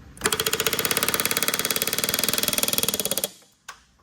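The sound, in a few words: rivet gun setting a rivet on an Airstream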